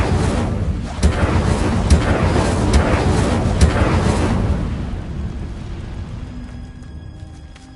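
Fiery spell blast in a Harry Potter–style video game: a loud, broad whooshing roar with crackling bursts that sustains for several seconds, then fades into a quieter rumbling tail.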